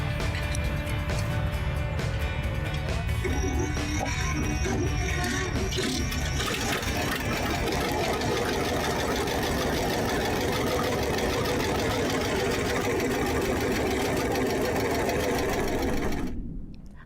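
A restored tractor engine runs close and loud with a fast, steady, rattling idle that continues without a break until it cuts off abruptly.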